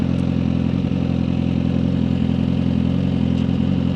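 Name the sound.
Suzuki GSXR 1000R motorcycle engine under throttle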